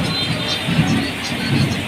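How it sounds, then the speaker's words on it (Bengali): Heavy rain pours steadily over the town of Gaibandha in Bangladesh during a thunderstorm, a dense, close wash of drops with low rumbling swells beneath it. "বজ্রপাত আছে এবং বৃষ্টি আছে"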